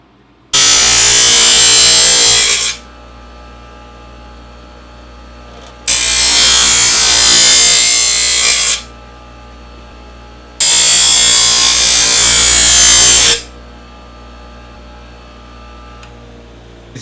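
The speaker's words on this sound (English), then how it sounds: "a grinding wheel sometimes can take off a lot of material really fast, and I did that on the back so I could actually create an edge" A grinding wheel sharpening the steel edge of a camp shovel, heard as three loud, even passes of harsh hissing grind, each about two to three seconds long with brief quiet gaps between them.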